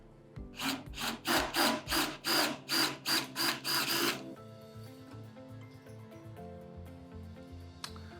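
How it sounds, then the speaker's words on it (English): A surgical drill bores a larger hole in the shoulder for an implant during a shoulder replacement, running in about nine rhythmic pulsing bursts before it stops, followed by quiet room hum and a faint click. "this drill bit's going to create a somewhat larger hole than the rest"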